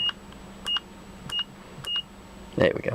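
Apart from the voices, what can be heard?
meter beeping in continuity test mode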